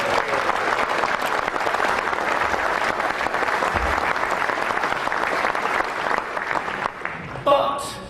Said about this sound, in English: you all deserve a strong round of applause